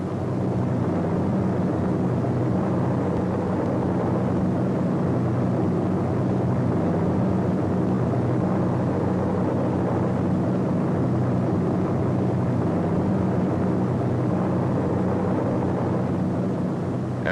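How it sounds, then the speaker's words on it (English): World War II C-47 tow planes and gliders fly toward France in archival footage, a continuous droning engine rumble, steady and loud throughout with no speech. "As these gliders and their tow planes head into France, C-47s, which already have dropped their gliders, pass on their way back to England."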